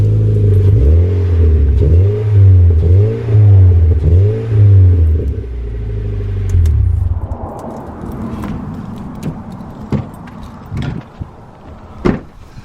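The dual exhaust of a Mazda Miata revs loudly, rising and falling several times in a throaty rhythm, then the engine cuts and scattered clicks and handling noises follow.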